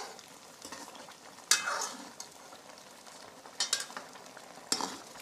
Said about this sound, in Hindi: अगर आप इसमें चम्मच जोर से चलाएंगे तो गोश्त टूट जाएगा।